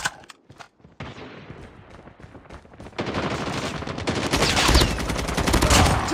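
Gunfire in a video game shooter starts with a few isolated loud shots, then builds into dense, continuous automatic bursts that grow louder and fill the scene.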